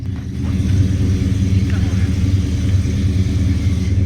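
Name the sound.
Plymouth Roadrunner car engine driving into garage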